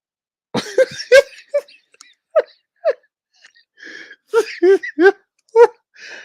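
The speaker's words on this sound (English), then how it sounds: "Sorry about the cough, y'all." A few short coughs mixed in with bursts of speech-like vocalizing, fairly close and moderately loud, with pauses between.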